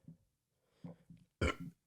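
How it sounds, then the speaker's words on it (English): A person burps after drinking canned Liquid Death water, with a few small throat sounds and then one short, loud, close burp near the end. "That's a burp from liquid death water."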